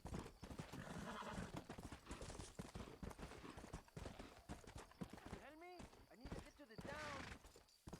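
Horse hooves clip-clopping in the Red Dead Redemption video game, steady hoof beats mixed with horse neighs and whinnies, with someone talking over them.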